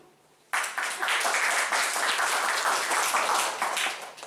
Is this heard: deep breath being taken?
no